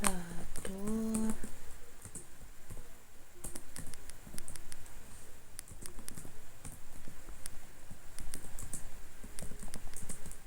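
Computer keyboard typing while entering Python code, a run of soft, quick, irregular key clicks close to the microphone, with a short spoken phrase near the start.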